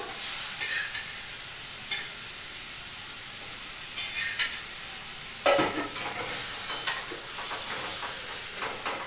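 Fish heads frying in a pan with white cumin, a loud continuous sizzle and hiss with occasional scraping stirs of a utensil, heard close up and alone.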